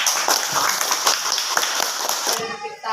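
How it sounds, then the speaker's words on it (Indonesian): Classroom applause for a student, rhythmic group clapping in quick repeated bursts, loud and close, with voices mixed in before stopping abruptly near the end. "Kita beri tepuk tangan semangat untuk dia."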